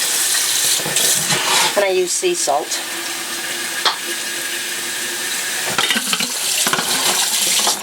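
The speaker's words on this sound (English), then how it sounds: "Put water in again." Water runs into a bowl to rinse a lump of homemade salted butter, a steady splashing pour with stirring and sloshing, while someone speaks briefly over it.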